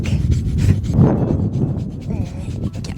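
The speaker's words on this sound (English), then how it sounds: "I'm gonna brush her, but I wanted to show you this cute thing that she does because she absolutely loves being brushed" A horse's neck is brushed, giving close, steady scratchy rubbing strokes that continue throughout. Some low breathing or movement noise sits underneath.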